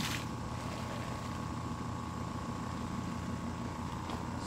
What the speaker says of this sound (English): Okay, so that's the foam generator.